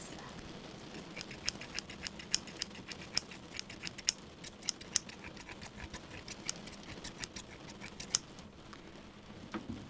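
Rapid, crisp metallic snips of scissors cutting hair repeat steadily for several seconds, close and quiet, with faint room noise beneath.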